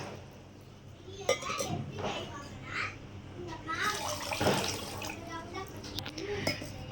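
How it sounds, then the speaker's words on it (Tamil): About two measures of water are poured into a pot for gulab jamun, a splashing, uneven gush with occasional clinks of metal, while a voice talks over it. "இதில் இப்போ நான் தண்ணி ஊற்றி உங்களுக்கு காட்டுறேன் பாருங்கள்."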